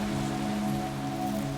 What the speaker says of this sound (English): Rain tapped against the metal roof in restless patterns.